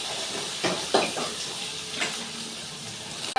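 A single tomato sautés in a pan for a ridge gourd peel chutney, a soft low sizzle broken by a few short scraping stirs and utensil knocks.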